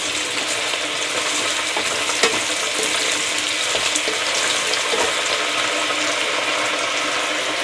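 Steady broadband sizzle of onions frying in a pan, a continuous hiss with occasional soft pops and clinks, fairly close and even in level.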